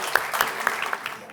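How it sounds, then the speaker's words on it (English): An audience at an Italian Heritage Month celebration claps briefly for arriving council members, a short scattered patter of hands with a few sharp individual claps. "let's give them a round of applause"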